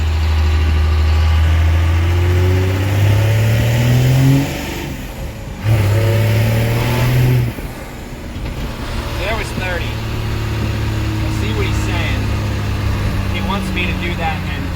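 A second-generation diesel truck with a swapped NV5600 transmission revs and accelerates under boost, its low engine drone climbing in pitch through the gears. Talk runs over it, and a brief dip in the engine noise marks a shift.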